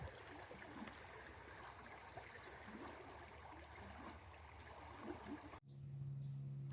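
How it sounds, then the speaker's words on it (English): A mountain stream in Kentucky or Tennessee flows steadily, a close, even rush and gurgle of water that cuts off abruptly near the end. "And here's some flowing water."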